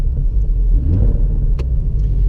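A loud, deep engine rumble from a 2017 Porsche 718 Boxster S rolls steadily and close by, with a throaty growl that rises slightly.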